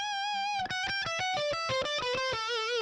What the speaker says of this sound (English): Here's the tone with the tube drive.